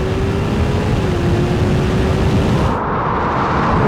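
A Ferrari 488 Pista and a Ferrari 296 GTB run at full throttle in a drag race, heard as a loud, continuous roar with rushing wind noise and a slowly shifting engine tone, close and alone.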